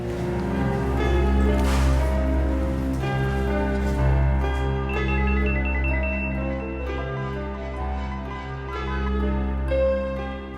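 A phone rings out as a call is placed to a doctor at night, giving a steady, sustained electronic tone that repeats over about ten seconds beneath a soft musical bed, with no talking.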